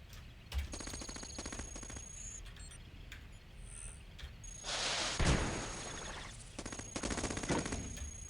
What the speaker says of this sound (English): Gonna have to unleash the missiles.